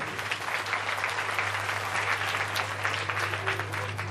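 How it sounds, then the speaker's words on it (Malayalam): Steady applause from an audience at a church parish meeting and rally, dense, even clapping sustained throughout with a low constant hum underneath. "എല്ലാവരും കൂടെ ഒന്ന് കൈയടിച്ചു"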